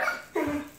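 Four-week-old puppies give a couple of short, high yips and barks up close, a brief burst followed by a whimpering tail.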